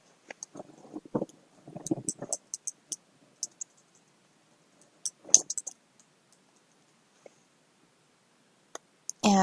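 Computer mouse clicks while editing text on a website, sharp dry clicks scattered sparsely with a few quick clusters, close and quiet against a silent background.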